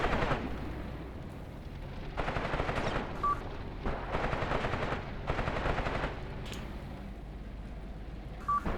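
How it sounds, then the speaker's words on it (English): Bursts of shelling and gunfire in the Graviteam Tactics Mius Front wargame, loud rapid crackling volleys in several long waves with short lulls between them. "I'm being shelled by something."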